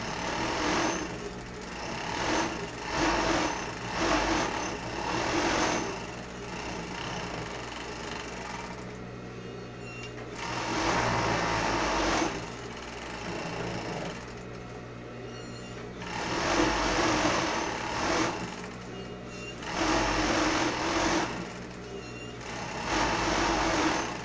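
A sewing machine runs in long bursts, stitching around the full edge of a large fabric rectangle for a unicorn dress, with short pauses between steady, loud runs close by.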